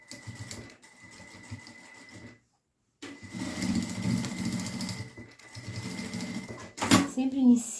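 A sewing machine stitching a side seam runs in steady whirring bursts, stops briefly, then stitches again, while someone speaks over it.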